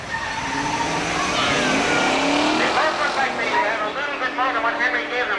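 Two Ford Mustang race cars, an '85 and an '86, run at Seekonk Speedway, their engines roaring loud and close with rising and falling revs, while a voice talks over the racket.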